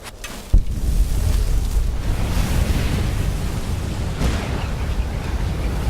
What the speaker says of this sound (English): And kaboom.